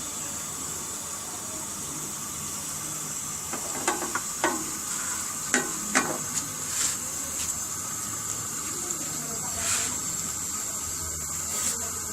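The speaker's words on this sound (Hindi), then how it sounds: "मैंने ये चिकन को थोड़ा सा हल्का सा फ्राई कर लिया है।" Marinated chicken frying in a pan, with a steady bright sizzle and hiss throughout, broken by scattered spatula scrapes and taps in the middle, close and fairly even in loudness.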